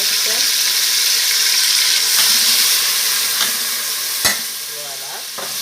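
Onions and tomato fry in a pan for a sauce. A loud, steady sizzle continues throughout, with a few scrapes of stirring and a brief sharp knock near the end.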